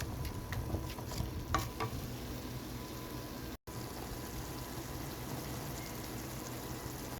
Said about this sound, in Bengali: এখন খুব ভালো করে পেঁয়াজ আর রসুন ভেজে নেব